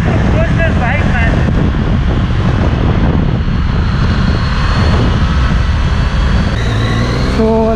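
A Triumph Tiger 800 XRX motorcycle engine drones continuously on a test ride in India, with heavy wind rush and a rising rev near the end, loud and close throughout.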